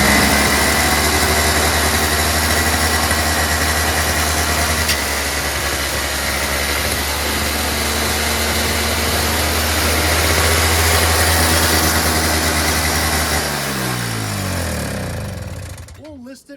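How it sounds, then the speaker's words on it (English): A Toro CCR2000E single-stage snowblower with a 4.5 hp two-stroke Suzuki engine runs at full throttle, a loud steady buzzing drone close by that drops in pitch and cuts off near the end. "And now, after cleaning the carburetor where it surged before, it is on full run."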